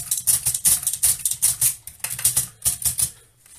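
A 1924 Erika Modell 4 German folding typewriter clacks in a rapid, close, loud run of mechanical clicks as its carriage steps back under the backspace key, easing off briefly near the end.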